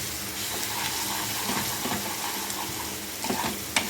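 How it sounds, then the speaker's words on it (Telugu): Prawns stir-fry with tamarind leaves in a pan, producing steady close sizzling with scraping and stirring throughout and a few sharper knocks near the end. "అడుగంటకుండా జాగ్రత్త తిప్పుకోండి"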